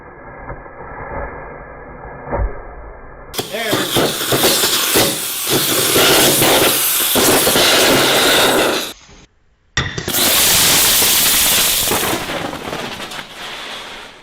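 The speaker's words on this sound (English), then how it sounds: "So you're basically breaking the separation plates so that the layers come in contact with each other, and then you're getting the explosion." Pierced lithium-ion battery bursts into a loud, sustained roaring hiss of venting gas and crackle, breaking off briefly and then surging back, preceded by quieter handling noise.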